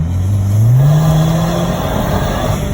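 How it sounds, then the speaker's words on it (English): An Audi car engine revs up steadily, its pitch climbing as it accelerates, loud and close with continuous road and engine noise underneath. "So car is pulling fine"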